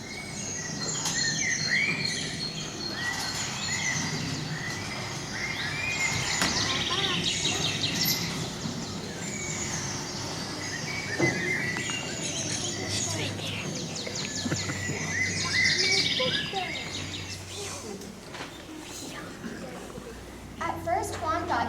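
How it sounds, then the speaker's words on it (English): Birds chirp and trill in a lively chorus over a soft background, with varied calls rising and falling throughout. "As Juan Diego passes before Tepeyac Hill, he hears heavenly music with many rare birds singing."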